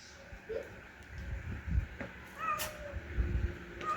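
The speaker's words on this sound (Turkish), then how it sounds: "bak kediler de geldi bak." A cat meows faintly a few times outdoors, short thin calls partly masked by wind and background rumble, with low talk and rustling around it.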